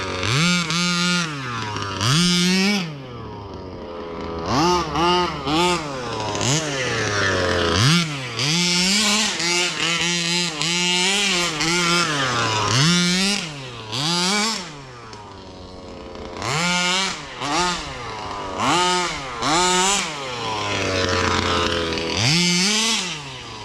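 A Rovan 5B Baja 1/5 scale RC car's small gas engine revving at about half throttle, a loud buzzy two-stroke whine that rises and falls in repeated bursts with short lulls between them, close by.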